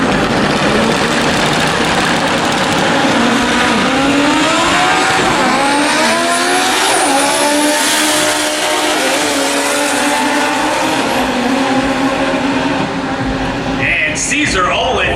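Front-wheel-drive sport drag race cars launch and run down the strip at N.C. Dragway, engines roaring loudly and continuously as they accelerate, with rising pitch sweeps and a sustained crowd-level din throughout.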